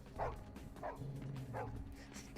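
A dog barking in the video game Vampire: The Masquerade - Bloodlines: three soft, muffled woofs at a steady pace over a constant low hum, heard at moderate distance.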